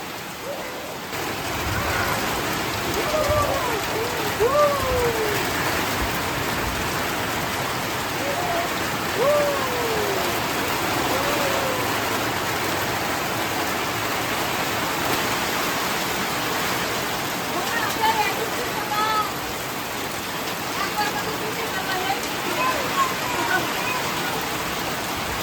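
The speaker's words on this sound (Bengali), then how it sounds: "কি বৃষ্টি রে!" Heavy monsoon rain pours down in a steady, dense hiss that lasts the whole time without letting up. Voices are faintly heard beneath the downpour.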